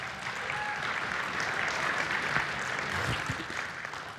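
Audience applauds at a Christmas-themed talk, a steady wash of many hands clapping at even loudness throughout, fairly close, with no voices over it.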